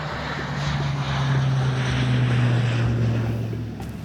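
A crop-spraying plane flies over a locust swarm in East Africa, its propeller engine making a steady, loud drone with a low hum that swells slightly and then fades. No one speaks over it.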